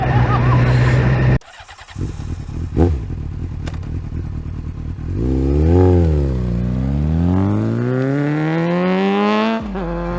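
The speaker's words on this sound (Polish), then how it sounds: "Jadę odstawić moto do garażu." A motorcycle engine runs loudly at night, first idling, then cutting off abruptly, followed by rising and falling revs as it accelerates away.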